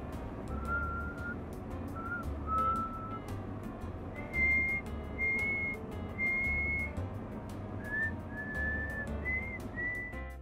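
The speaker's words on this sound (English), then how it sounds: "opens with whistling and a moving car" Someone whistles a slow, simple tune in clear sustained notes over a moving car, with a soft rhythmic low thumping and faint ticking underneath.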